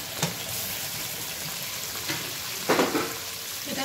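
Vegetables fry in hot oil with spices, giving a steady close sizzle with occasional louder crackles as they are stirred in the pan.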